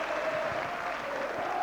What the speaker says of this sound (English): the Saints faithful applaud him